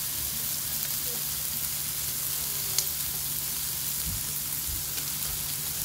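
Food grilling on a Tiger indoor electric grill gives a steady, close sizzle and crackle with a faint low hum, running evenly throughout with no talk.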